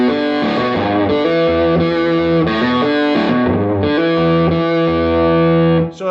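Electric guitar played through an amp with slightly forward treble set around 6, smooth and not too edgy, with distorted sustained chords in a loud, steady phrase that cuts off at the end.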